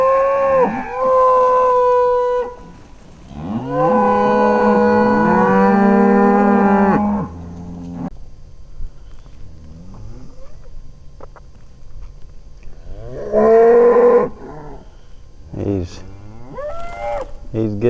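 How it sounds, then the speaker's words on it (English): Cows in a pasture, with calves among the herd, moo loudly and close in several long drawn-out calls, some overlapping, separated by quieter stretches of rustling. "All the other cows want to see this new baby."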